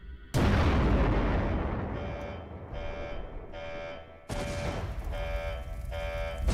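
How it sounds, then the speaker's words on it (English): A generator explosion in a Five Nights at Freddy's video game: a sudden loud blast with a long rumbling decay, then a repeating pulsed electronic alarm that drops out briefly and resumes with a fresh burst of noise; no speech. "Warning to all staff."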